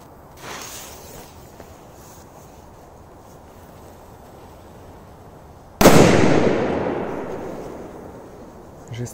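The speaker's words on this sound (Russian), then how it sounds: "Должен быть мощный взрыв." A Maxi firecracker with a thick gypsum casing explodes outdoors in a single loud, sharp blast after a quiet wait with a faint fizz, the boom echoing and decaying slowly over several seconds.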